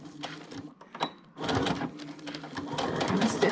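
A sewing machine stitches pleather with a long top stitch, first in a few short, stuttering bursts and then running steadily for a couple of seconds, close and clear.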